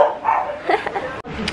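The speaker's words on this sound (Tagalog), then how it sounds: "Grabe yung mga aso naman dito." Several dogs bark and yip close by in a rapid, uneven burst lasting about a second and a half, with a short whimper near the end and no talking.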